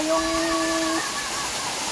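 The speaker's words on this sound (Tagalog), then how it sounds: "So ayun yung falls na bago." A new waterfall beside a cave in a rural Philippine province gives a steady, broad rush of falling water, with a brief voice over it at the start.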